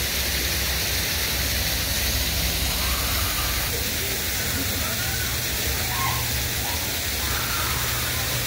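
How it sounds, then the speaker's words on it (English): A waterfall at a zoo gives a steady, broad rushing hiss that fills the whole scene without pause, fairly close and constant. "It's a waterfall, huh?"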